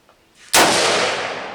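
A single loud, close gunshot from a Savage MSR15 Recon rifle firing hand-loaded ammunition, a sharp crack followed by a long decaying echo, with no talk.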